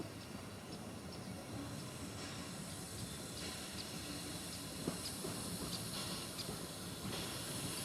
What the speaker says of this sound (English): You can hear the Westinghouse brake